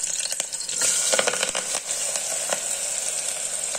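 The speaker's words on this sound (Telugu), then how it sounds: "నేను ఒక 3 టు 4 టేబుల్ స్పూన్స్ ఆయిల్ వేసుకున్నా అది కాగిన తర్వాత పచ్చిమిరపకాయలు తరువాత ఆనియన్స్" Green chilies and onions frying in a few tablespoons of hot oil for ghee rice and mutton curry, a close, continuous bright sizzle with crackling pops throughout, no speech.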